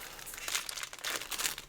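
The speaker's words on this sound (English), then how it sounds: "So let's get to our pack rip." A 2021 Donruss NFL trading card pack is torn open close up with a continuous crinkling, ripping rustle of foil wrapper that runs fairly loud for under two seconds, with no voices.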